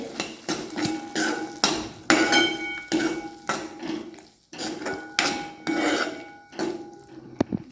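Metal plate lid clanking and scraping against a cooking pot of pavta bean and potato gravy, a run of loud rhythmic clinks and rubs repeating about every half second, close up.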